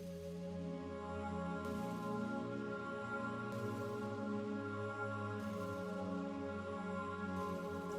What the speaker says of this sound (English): It's basically just these like really cool Fairlight style pads. And this is just a preset called Never Told You